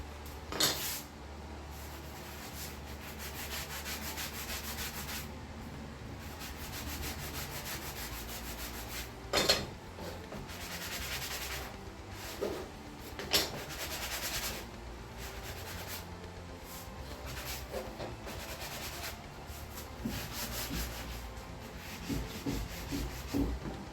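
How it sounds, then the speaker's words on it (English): Parts for a Mini-Max 1030S ultralight aircraft are sanded by hand in a long, steady scrubbing rasp, broken by a few knocks and handling bumps as the work is shifted. No voices are heard. "These already been sanded too. I'm going to hit them again just to be sure."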